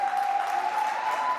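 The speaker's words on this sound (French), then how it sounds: "On l'applaudit." Audience applause at a Pink Block versus Créature de Neptune match, steady continuous clapping for a player who got back up, with a steady tone running through it.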